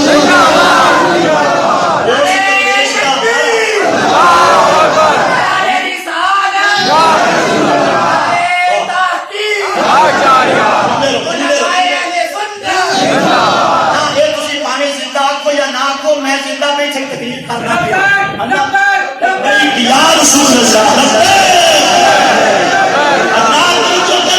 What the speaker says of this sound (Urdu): حضور دے نعرے ماریا کر تاجدار ختم نبوت